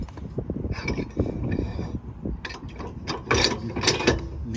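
An Oedro 6-inch drop tow hitch on a 2018 Ram being lifted and adjusted, with close metallic ratcheting clicks and clunks in irregular bursts, growing louder toward the end.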